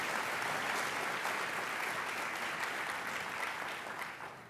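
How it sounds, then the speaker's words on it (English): An audience at a public policy conference claps in sustained, dense applause that holds steady, then tapers slightly toward the end, filling the hall without any speech over it. "Can we please give another round of applause?"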